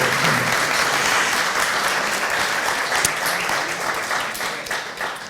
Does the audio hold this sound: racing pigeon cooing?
no